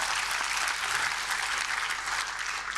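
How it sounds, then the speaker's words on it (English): Steady applause fills an awards event in Durban, South Africa, a close, even wash of many hands clapping without pause. "Let's give a round of applause."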